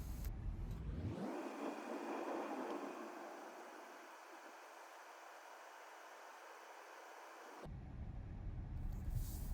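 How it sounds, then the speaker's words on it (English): A car under hands-free self-driving accelerates and merges into the left lane on a city street, heard from inside as a broad road-and-tire roar that swells, holds steady, then eases, with no talking. "It accelerates nicely and moves into the left lane smoothly."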